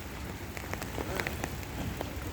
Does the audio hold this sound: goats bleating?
no